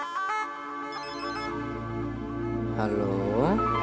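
A phone ringtone plays as a melodic electronic tune with rising, sweeping notes, fairly loud and filling the whole short span in an indoor film scene.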